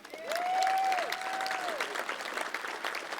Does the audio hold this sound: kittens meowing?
no